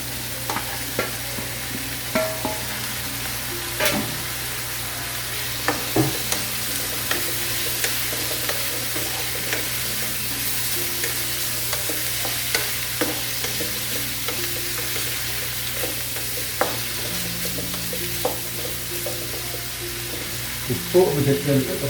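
Chicken fried rice with scrambled egg and chicken being stir-fried in a pan, a continuous low sizzle with frequent clicks and scrapes of a spatula stirring throughout.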